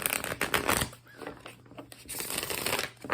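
Tarot cards riffled and shuffled by hand at close range, a soft papery flutter in short bursts at the start and end with a quieter pause between.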